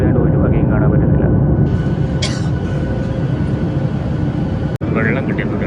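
Steady, loud broadband roar of an airplane cabin in flight at night, filling the whole span with a continuous low rumble, a brief hiss near the middle and a short dropout near the end.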